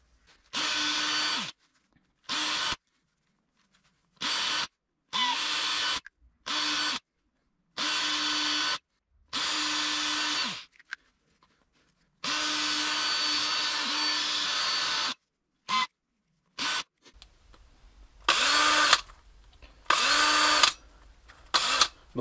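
A power drill bit is run back through holes in plastic to clear burrs, in repeated short whirring bursts of one to three seconds separated by silences, close and loud, with scraping as it cuts.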